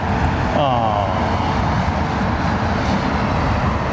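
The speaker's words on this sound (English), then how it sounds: "Singapore 747. Taxiing over, is it?" A Singapore Airlines Boeing 747 taxis at London Heathrow Airport, a broad continuous engine roar at a distance with people talking over it.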